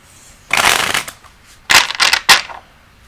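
A deck of tarot cards shuffled up close in three crisp riffle bursts, the first longest, separated by short pauses, with no talk.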